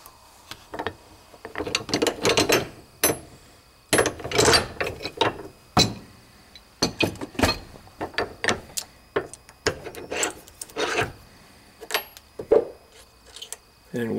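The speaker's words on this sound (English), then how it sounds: "now we will compress the coin" A coin ring press squeezes a copper coin, producing a close series of irregular mechanical clicks, creaks and ratcheting bursts over several seconds, with quiet gaps between them and no talk.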